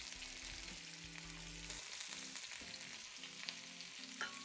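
Green, red and yellow peppers frying with onions in a pan, a soft continuous sizzle with occasional stirring scrapes, faint and without talking.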